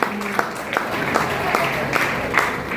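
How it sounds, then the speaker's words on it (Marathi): An audience at a student recognition event applauds steadily, a moderate wash of clapping with several distinct nearer claps popping out at irregular intervals and faint voices mixed underneath. "श्रेयासाठी जोरदार टाळ्या."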